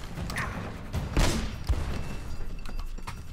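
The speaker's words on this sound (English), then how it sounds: "It's an explosion." Blasts and gunfire crackle through a gunfight in Uncharted: Drake's Fortune, set in a flooded city, with a sharp explosive burst near the middle amid a steady barrage of shots.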